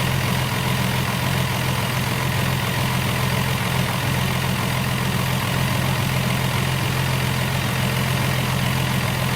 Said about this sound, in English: Man, that's quiet. That turbo biting the exhaust now.